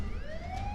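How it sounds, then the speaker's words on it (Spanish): A police siren wails with a single rising sweep, loud and close over a low rumbling background, heard alone without voices. "Sí, eran las sirenas de la policía lo que sus oídos escuchaban."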